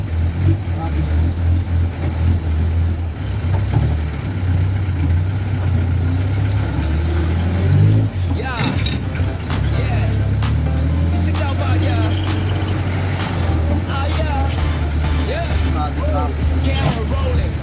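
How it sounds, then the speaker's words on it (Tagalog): Congested road traffic in Alabang, with a steady low engine rumble from idling vehicles throughout and brief louder bursts, while people talk over it. "Grabe ang traffic."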